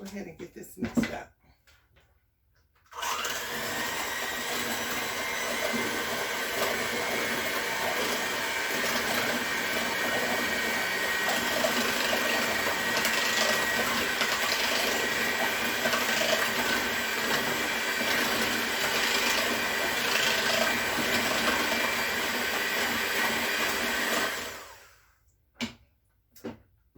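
An electric mixer beats red velvet cake batter with oil in it, a steady, loud whirring hum that runs unbroken for about twenty seconds before cutting off.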